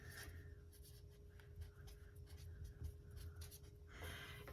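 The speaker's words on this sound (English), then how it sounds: "So I'm gonna go ahead and fill this in for Porter and write his name here" A pen writing a name onto a logic puzzle sheet, with soft, continuous scratching strokes close up and no talk over it.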